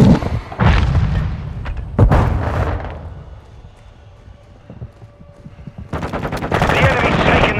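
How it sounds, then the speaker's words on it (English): Heavy, booming gunfire and blasts in Call of Duty: Modern Warfare II, with dense rapid volleys at the start and a loud renewed burst near the end around a quieter stretch. "Throwing grenade!"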